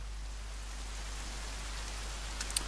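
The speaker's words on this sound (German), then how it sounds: "Regen." Steady rain falling in the survival video game The Forest, a dense even hiss throughout with a few sharper drop patters near the end, no talking.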